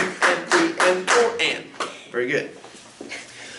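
Hands clap a counted rhythm in a music theory lesson: a steady run of crisp, close claps, about ten in all, with short pauses.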